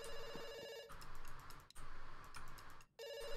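A phone in the game Dr Langeskov rings in short electronic bursts at the start and again at the end, with a gap of quieter background noise and clicks between.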